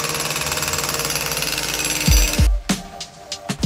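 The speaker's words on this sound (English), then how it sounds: "There's literally a pneumatic drill that I'm about to walk through." A pneumatic drill hammers on a London street with a rapid, loud, steady rattle, close by, then stops, followed by a few heavy thuds and knocks.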